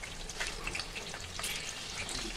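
Green chillies frying in hot oil give a faint, steady sizzle with small crackling pops, quiet and without talk.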